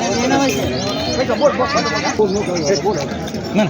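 Local-breed goats bleat repeatedly and fairly loudly at a goat sale, overlapping with people talking nearby throughout.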